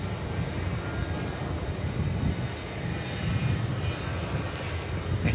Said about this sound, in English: now we can turn our attention back to the MD-11 of the moment